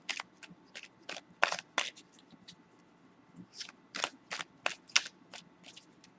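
A deck of tarot cards being shuffled close by: quick bursts of riffling snaps in two flurries with a short pause between them.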